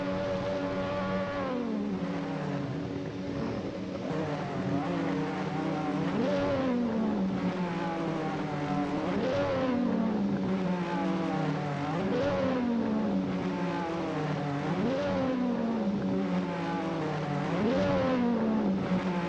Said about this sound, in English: enjoy their magnificence and the engine noises, the engine sounds